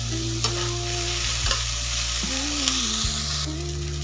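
Onion sautés in a pan for green chilli masala, giving a steady close sizzle with scraping stirring strokes and a faint background hum throughout.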